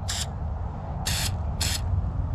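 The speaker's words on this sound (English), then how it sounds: "Definitely a fatter spray, quick line too." Three short hissing bursts from a Loop spray paint can fitted with a Lego cap, each a quick, fat spray against a steady low background rumble, with no talking.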